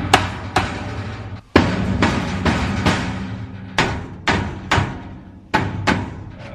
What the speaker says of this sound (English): we're going to take a rubber mallet, and I'm going to try whacking this thing a few times on the top